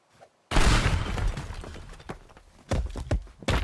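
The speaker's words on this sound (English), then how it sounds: "propane tanks explode when thrown?" A propane tank blows up in a video game: a sudden loud blast bursts from near silence, trailing into a rumbling, debris-filled tail with several further thumps and cracks.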